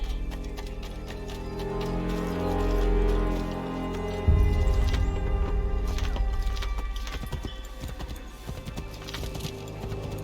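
Horse hooves clip-clop in the Assassin's Creed 3 video game, a steady rhythmic trot under a low musical drone, growing busier partway through, with a brief whinny.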